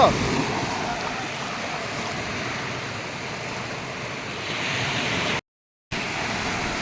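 Ocean waves break along the shore where people are fishing, a steady, loud wash of surf mixed with wind rumble that continues throughout with no pause in the roar.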